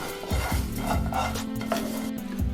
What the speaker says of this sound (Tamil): இப்போ மசாலா கூட எல்லாத்தையும் சேர்த்து நல்லா மிக்ஸ் பண்ணி விட்டுடலாம்